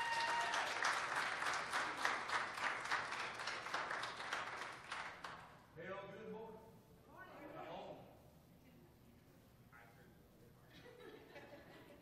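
A church congregation applauds a pastor as he steps up to preach, loud dense clapping for about five seconds that fades out, followed by someone speaking over the quieting room.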